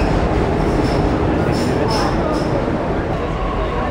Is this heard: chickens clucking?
no